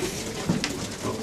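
One-year-old racing pigeons coo softly in a loft in Złotów, a low murmuring burble under faint room noise.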